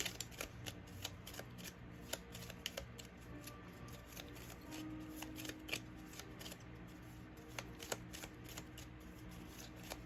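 Soft, close riffling and shuffling of tarot cards with small repeated taps and flicks, continuous and quiet with no voices.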